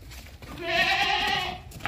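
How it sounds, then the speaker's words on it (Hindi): A sacrificial billy goat gives one loud, close, wavering bleat of about a second, standing out clearly against quiet background noise. "कुर्बानी वाले ये बकरे हैं।"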